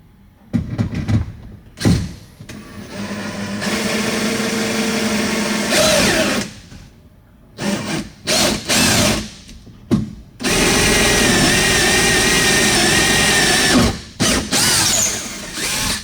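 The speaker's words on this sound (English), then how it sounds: "Go ahead and drill 1 hole." A power drill bores a hole into a boat for a Scotty downrigger mount, with loud whining bursts that start and stop several times before a long sustained run near the end.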